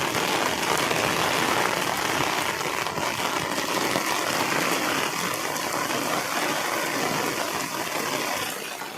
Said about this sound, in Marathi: आता जोरात पाऊस आलाय मित्रांनो